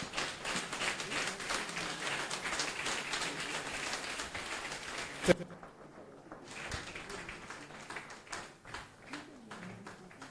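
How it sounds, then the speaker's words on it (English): A crowd applauds in dense, steady clapping that stops abruptly with a sharp thump, leaving softer scattered claps and room noise. "we all humbly stand and give him a round of applause"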